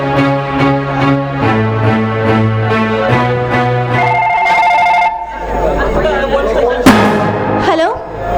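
A telephone rings during a staged social drama, giving a loud, close series of repeated ringing tones with a pause between each ring, then shifting into a busier electronic tone with a sharp burst near the end.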